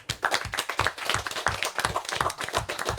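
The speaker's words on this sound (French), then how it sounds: "Et je vous demande d'applaudir chaleureusement." Audience applauding a guest artist on a talent show, a small group clapping close by with distinct, uneven individual claps rather than a dense roar, steady for a few seconds.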